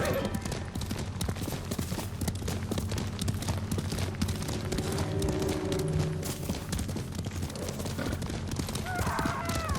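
Horse hooves gallop in a steady clip-clop under low rumbling ambience while riders travel a road in Ghost of Tsushima, with a voice briefly speaking partway through.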